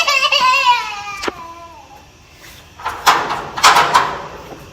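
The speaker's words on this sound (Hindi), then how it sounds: "दरवाजा खोलने जा रही हूँ मैं" A door creaks open with a long, high squeal, then a thump, followed by a few rattling clunks and bangs as it moves.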